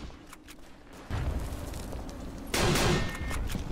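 Gunshots in the World War I shooter Verdun come as two heavy, distant-sounding booms about a second and a half apart, each one leaving a rolling tail. A low battlefield ambience runs underneath.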